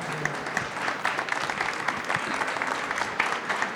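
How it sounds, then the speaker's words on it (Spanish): Audience applause for Eric at a book presentation on youth and digital democracy, a steady wash of many hands clapping at moderate distance, fairly even throughout with no voices on top. "Un aplauso para Eric, por favor"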